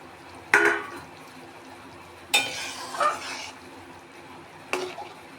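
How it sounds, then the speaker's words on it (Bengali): Pieces of pangas fish are dropped into a simmering spicy curry in a pan, giving three separate bursts of splashing sizzle and stirring clatter between quieter stretches of low bubbling. "এখন এর মধ্যে মাছগুলো ছেড়ে দেব।"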